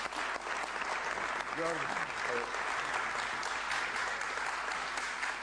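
Applause from a crowd of university students, dense and sustained clapping filling the room throughout, with a person speaking briefly over it.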